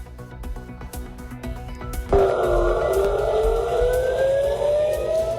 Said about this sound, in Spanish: una ofensiva con misiles que han hecho sonar las sirenas por todo el